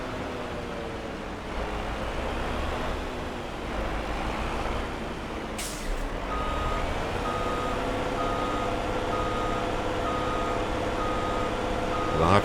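A truck reverses to park in the Farm Sim 22 game, its engine droning steadily while a reversing beeper pulses in an even, repeating rhythm, loud and close.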